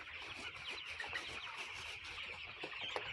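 Chickens on a small poultry farm, some of them sick and weak, cluck softly and repeatedly, a faint, continuous murmur of calls from several birds.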